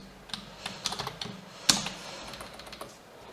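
Keystrokes on a computer keyboard while HTML list tags are typed, a quick uneven run of clicks with one sharper, louder tap near the middle, close and alone with no talk.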